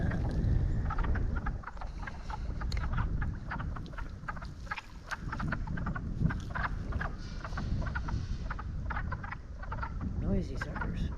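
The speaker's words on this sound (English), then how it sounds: "There's a lot of frogs in this end of the pond right now." A dense chorus of many frogs croaks together in a pond, overlapping clicky calls repeating steadily and close, with no voices over them.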